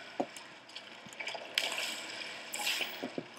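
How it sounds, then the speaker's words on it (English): Water flows and splashes in Portal 2 while washing away blue repulsion gel. Soft trickling and dripping are heard up close, with a few brighter splashy bursts and no voices. "As you can see, the water gets rid of the repulsion gel"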